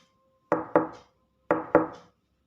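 Two pairs of firm knocks on a door, each pair a quick double rap with a short pause between the pairs, close and loud against silence, used as a sound effect in a Hindi horror story about aliens.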